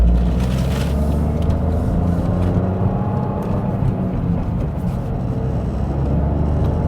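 Toyota GR Corolla with an iMT auto rev-match system driving gently, a steady low engine drone and road hum held at an even level throughout.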